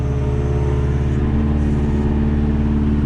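A compact tractor engine revving with a steady, loud low rumble and dense harmonic drone, continuous and close with no pauses.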